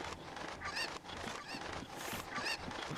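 Cackling, squawking chickens from Zelda Ocarina of Time, several overlapping bursts of shrill bird calls repeating over a steady game-audio bed, fairly close and continuous with no talking.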